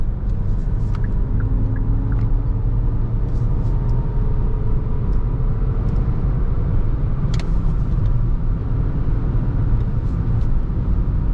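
A 2021 Hyundai Tucson with a 1.6 T-GDi 150 HP 48V mild-hybrid petrol engine driving in sport mode, giving a steady, loud in-cabin rumble of engine and road noise with no talk.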